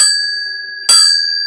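A dinner bell rings loudly and close, twice: a struck metallic tone with clear ringing overtones, the second strike sharp and sustained as it fades.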